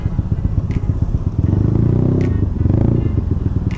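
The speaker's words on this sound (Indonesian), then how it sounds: "Suaranya udah kretek gitu kayak suara stang seher." A Yamaha Aerox scooter with a 240cc bore-up and stroke-up engine idles with a loud, rough knocking clatter, steady and close, with a few sharp ticks over the running motor.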